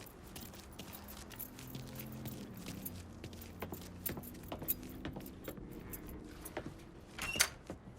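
Keys jangle in the Mafia 3 video game, a light metallic clinking that runs through the scene over low vehicle rumble, with a sharper burst near the end.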